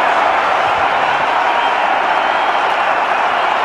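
A home crowd cheers at an India vs Pakistan one-day cricket match in 2004 after a fast bowler clean bowls a batsman, a broad, steady roar of distant voices and applause.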